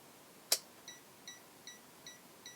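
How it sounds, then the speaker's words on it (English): A Borbede BD-99 digital multimeter with a dying battery gives a sharp click, then a string of short, high electronic beeps repeating at an even pace of roughly two per second, clear against a quiet room. "So it does give you that low battery signal before it dies, but then when it dies it just beeps."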